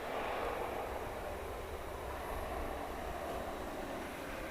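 At DFW Airport at night, a 23-year-old Atlas Air Boeing 747-400 bound for Honolulu gives off a soft, continuous engine rumble and hiss with no break.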